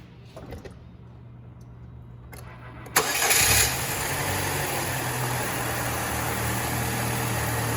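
A car engine cranks and catches after an oil change, a sharp rise into a steady idle hum that continues evenly to the end, with quiet shuffling before the start.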